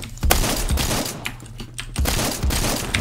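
Shotgun blasts in the Roblox game Phantom Forces, several sharp booming shots spaced about half a second to a second apart over a dense, noisy background of continuous game sound.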